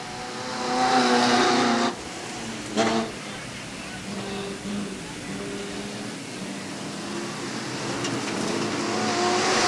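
Sportsman feature race cars at Hales Corners Speedway in 1989 drone with steady engine noise around the oval, mostly moderate and distant, while an announcer talks over the track sound.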